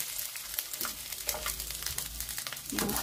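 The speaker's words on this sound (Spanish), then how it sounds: "Aquí mismo voy a agregar los chilitos de árbol, el ajo y la cebolla en trozos" Chiles de árbol, chopped garlic and onion chunks sizzle and crackle in hot oil in a pan, a steady close frying hiss with small pops throughout.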